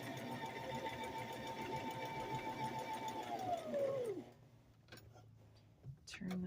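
A sewing machine hums steadily while backstitching elastic on a diaper cover, then winds down and stops. It is followed by faint clicks and handling noises.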